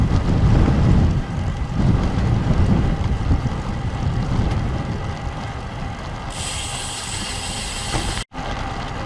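Strong February wind roars across the microphone during an outdoor bicycle ride, a loud, steady buffeting rush that fills the whole clip with only brief dips.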